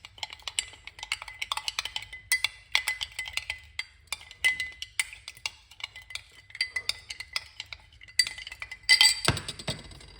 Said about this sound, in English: put it into your cup and mix it